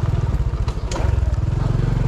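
A motorcycle engine putters close by with a steady low throb while riding over a bumpy road, a faint clatter and a voice briefly heard over it.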